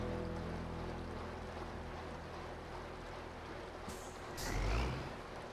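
A truck engine idles in SnowRunner on a Russian map, a steady low rumbling drone that holds constant and swells briefly near the end, with no talking.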